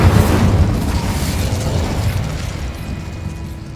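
Bombarda blasting spell going off in Hogwarts Legacy, a loud booming explosion at the start that rumbles and slowly fades over a few seconds, with no talk.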